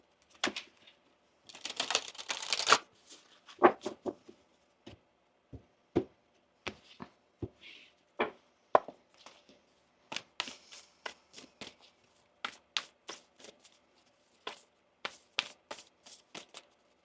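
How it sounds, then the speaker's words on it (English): A deck of Moonology oracle cards is shuffled by hand up close: a brief riffle burst at the start, then a long series of separate crisp taps and flicks at uneven intervals in a quiet room. "One more shuffle here."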